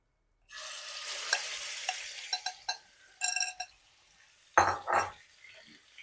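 Chicken mince hits hot cooking oil in a pan and sizzles steadily, broken by a scatter of spoon scrapes and metallic clinks as it is stirred and spread, with a couple of louder clanks near the end.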